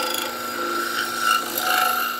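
A woodturning tool takes light finishing passes along the sides of a tobacco pipe spinning on a lathe, giving a steady, close, continuous scraping whir with a faint ringing tone.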